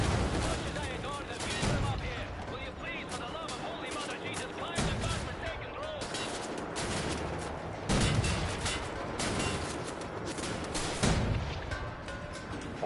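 Heavy cannon in Wolfenstein: The New Order fires shell after shell, with loud repeated booming blasts and dense gunfire-like bursts that run steadily over a rumbling battle soundscape.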